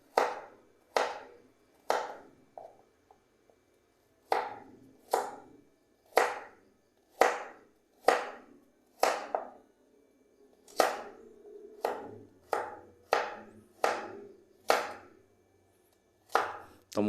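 Java ginger (temulawak) root is sliced with a knife on a cutting board in a quiet setting: crisp, close chops in an uneven series of about twenty, sometimes in quick pairs or runs.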